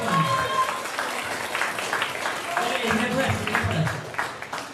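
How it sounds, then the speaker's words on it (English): Audience applause at a strongman competition, the Under 105kg weight category of Britain's Strongest Man, for a member of the filming crew; a steady wash of clapping across the whole span, with voices over it. "give him a round of applause"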